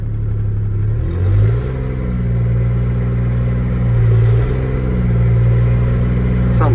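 An old 140 engine idles after a repair with a loud, steady, low rumble, close by, swelling briefly a couple of times as the throttle is blipped.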